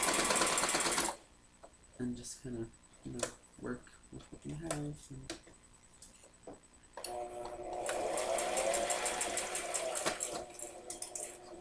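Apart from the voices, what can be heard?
sewing machine stitching a Build-a-Bear dress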